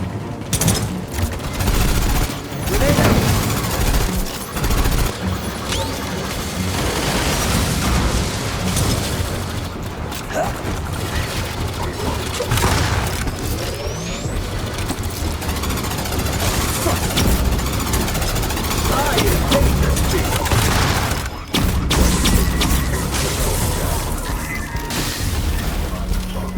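Grenade blasts and gunfire in the Aliens: Fireteam Elite video game, a dense, continuous wash of booms, bursts and mechanical clatter running loud throughout with brief dips, voices mixed in.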